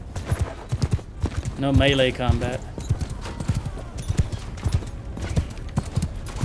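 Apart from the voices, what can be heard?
horse hooves clip-clopping in Mount & Blade II Bannerlord video game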